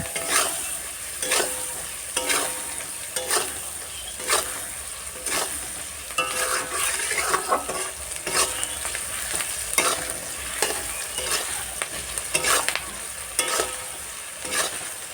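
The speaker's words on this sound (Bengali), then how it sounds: "তো এগুলাকে এখন ভালো করে ভেজে নিতে হবে। আর দিয়ে দিলাম আমি স্বাদ মতো লবণ আর একটু হলুদ। এটাকেও নাড়িয়ে নেওয়ার পর" Beans sizzle in oil with chopped onion, salt and turmeric while a spoon stirs them, giving a steady close frying hiss broken by regular scraping strokes against the pan, with no talking.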